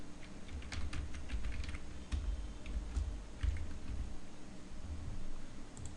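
Close, steady typing on a computer keyboard while coding PHP, a dense run of quick light key clicks with occasional harder taps over a low background hum, with no speech.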